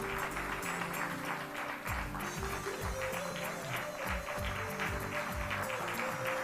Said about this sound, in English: Big round of applause for this team.